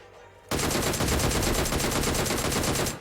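Sustained automatic gunfire in PUBG Mobile, a rapid, dense burst of shots lasting several seconds after a brief quiet lead-in, loud and continuous.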